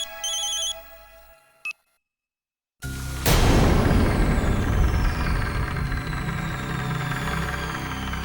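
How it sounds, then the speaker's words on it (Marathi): A mobile phone ringtone plays at the start, a short bright melodic ring that stops before a brief silence, after which a loud broadband rumble and wash fill the rest. "आला फोन."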